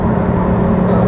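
A race-prepped Lamborghini Huracan STO with a mostly carbon-fibre body drones loudly and steadily, a close, continuous engine roar heard alone.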